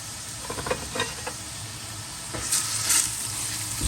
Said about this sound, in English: Fry this down. Get this browned real nice.